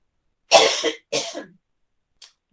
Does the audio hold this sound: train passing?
no